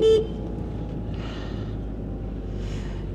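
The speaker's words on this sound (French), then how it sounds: "On va faire un petit coup de klaxon." A camper van gives a single short horn toot on a narrow country road in Alsace, France, the brief blast at the start giving way to steady engine and road rumble.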